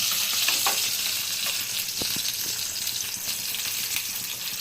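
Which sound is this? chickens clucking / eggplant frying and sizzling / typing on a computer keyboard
eggplant frying and sizzling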